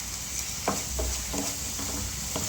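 Ginger garlic paste and garam masala frying in a pan, a steady close sizzle with a few soft stirring scrapes, no talk.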